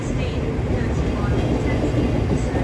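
Steady, loud rumble of a Southeastern passenger train on the Charing Cross to Gravesend service, heard close by at the London terminus with continuous low noise and no distinct events.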